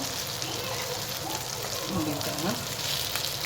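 Fish frying in butter on a flat tava, a steady dense sizzle with faint crackles running throughout, with a voice talking quietly over it.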